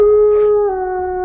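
A dog howls as a sound effect in a Filipino horror story about a lantern and an aswang: one loud, sustained, tonal howl that dips slightly in pitch midway, heard alone.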